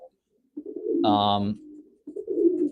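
A racing pigeon coos once in a loft, a short low throaty call standing out between softer rumbling murmurs, fairly close and moderately loud.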